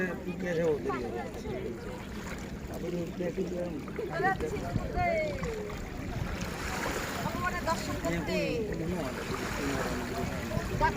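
Water rushing and splashing steadily at close range, with gusty noise on the microphone over it and a voice talking along for much of the time.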